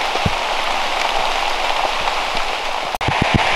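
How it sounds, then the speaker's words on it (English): Heavy rain pours down steadily on public land during whitetail deer scouting, a dense close hiss with scattered louder drops striking nearby surfaces, alone with no talk. "It is freaking pouring down rain."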